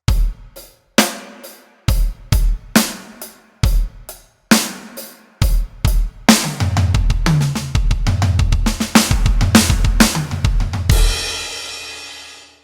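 Sextuplet drum lick on a kit: spaced single hits build into a continuous fast fill rolling around the drums, ending on a loud, sustained cymbal crash, close and alone.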